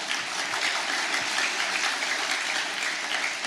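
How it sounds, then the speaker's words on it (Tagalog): Church congregation clapping, a steady, dense wash of applause from many hands filling the room at a moderate level throughout. "Lakasan niya yung palakpak."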